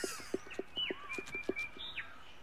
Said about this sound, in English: I love green-cheeked conures.